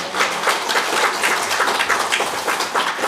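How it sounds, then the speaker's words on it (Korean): A church congregation claps in encouragement for an elder during a Sabbath worship service: a steady wash of many hands applauding together, even and sustained throughout, with no voices. "여러분 격려의 박수를 좀 보내주시면 감사하겠습니다"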